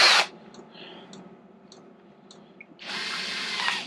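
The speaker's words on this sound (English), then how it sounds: "I can't believe I'm drilling into the bodywork on this." Cordless drill with a 1mm Bosch bit boring holes in plastic PCX125 scooter bodywork, two short whirring bursts, one at the start and a longer one at the end, with quiet clicks between.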